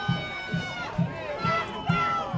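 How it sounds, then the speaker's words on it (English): Crowd murmur at a high school football game between St. Joseph Regional and Paramus Catholic, blended with a band's sustained horn tones and a thumping drum beat roughly every half second, while someone talks over it. "That crowd. Look at the crowd, eh?"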